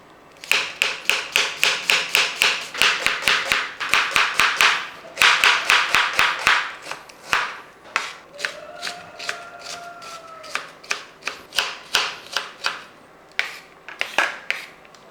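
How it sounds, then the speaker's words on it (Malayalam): Knife chopping onions and green chillies for egg puffs, a brisk run of sharp, close taps in quick regular bursts with short pauses, slowing to scattered single chops toward the end. "നമ്മളൊരു മൂന്ന് സവോളയും രണ്ട് പച്ചമുളകൊക്കെ എടുത്തിട്ടുണ്ട് ഒന്ന് അരിച്ചെടുക്കട്ടെ"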